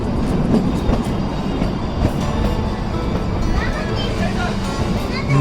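Kalka-Shimla narrow-gauge toy train pulling into Solan station, a steady loud rumble of wheels and carriages with faint rail clatter and voices talking in the background throughout.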